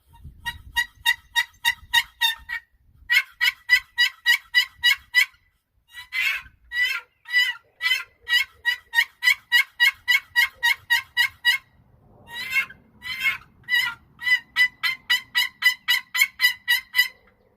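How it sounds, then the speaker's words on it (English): A Primos turkey box call plays long runs of rapid, raspy yelps and purrs in a steady rhythm, broken by short pauses, loud and close with no talking. "There's the noise from the kind of like a purr and a yelp, and then a cluck."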